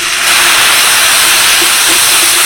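Spiced water is poured onto a spice paste of turmeric, Kashmiri chilli powder and salt in a hot pan, setting off an intense, loud, continuous steamy sizzle that holds steady throughout, close up, with no talking.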